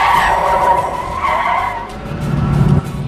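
A car brakes hard to a stop, tires squealing and skidding loudly in several bursts over about three seconds.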